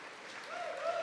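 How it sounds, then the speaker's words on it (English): Brief, fairly soft crowd applause at an outdoor giant pumpkin and vegetable weigh-off, a steady wash of clapping with a voice faintly heard through it. "How about a round of applause for the volunteers who do the picking up of these things?"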